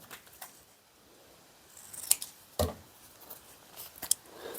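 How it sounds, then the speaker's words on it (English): Scissors trimming craft paper for Valentine decorations, a few sharp isolated snips spaced out over otherwise quiet room tone, no talking. "I got to trim just a little more here"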